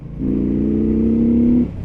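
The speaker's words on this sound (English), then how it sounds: "I don't know what it is with Chinese branded motorcycles, but they always seem to make this really nice stock exhaust" Benda Chinchilla 500 motorcycle on its stock exhaust, revving once in a steady, loud, close rev that holds for over a second before dropping back to idle, with no voices.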